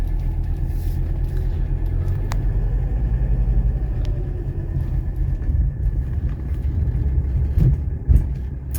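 A 1985 Mercedes 300CD coupe on a test drive after rain gives a continuous low engine and road rumble from inside the car, steady and fairly loud with a few small knocks and no talking.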